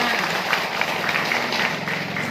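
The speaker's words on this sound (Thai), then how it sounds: "ขอเสียงปรบมือดังๆอีกครั้งหนึ่งค่ะ" Villagers applaud at a community meeting in a Thai village hall, a dense, continuous clatter of many hands that stays loud and even throughout.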